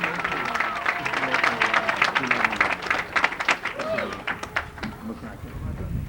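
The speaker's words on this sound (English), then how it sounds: "can we have a round of applause for John Langan?" Crowd at a St. Patrick's Day parade event applauding Grand Marshal John Langan, with a dense run of clapping that holds steady throughout and talk and voices mixed in with it.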